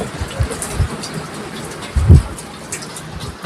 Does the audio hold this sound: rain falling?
yes